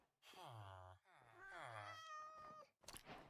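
A Minecraft cat in modded gameplay gives a few drawn-out, wavering meows one after another, loud and close, followed by a short burst of noise.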